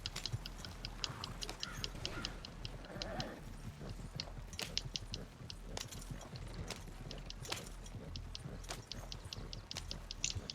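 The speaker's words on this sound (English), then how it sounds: "Love these little horse chases." Horses galloping in a Red Dead video game horse chase, with rapid, steady clip-clop hoofbeats running throughout over a low rumble and sharp clicks.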